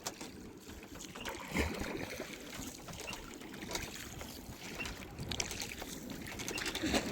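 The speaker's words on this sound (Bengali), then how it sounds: "বাবা আর জেঠু মিলে তাড়াতাড়ি নৌকাটা বেয়ে ওপারে যাওয়া হচ্ছে" Quiet river water sloshes and splashes in soft, irregular strokes as a small boat is rowed across a river near the Marichjhapi forest, with faint wind in the background.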